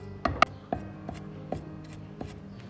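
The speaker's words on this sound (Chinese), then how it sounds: "小葱2根，把葱白切碎" A knife chops scallion whites on a cutting board with about seven sharp, close taps at an uneven pace, the first couple loudest, with no talking.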